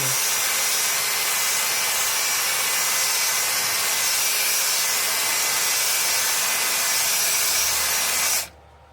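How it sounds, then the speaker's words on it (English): Turned birch wood being sanded on a spinning lathe, a loud, constant hissing rush that holds steady for several seconds, then cuts off abruptly near the end, leaving only a faint low hum. "the wings get sanded on their own"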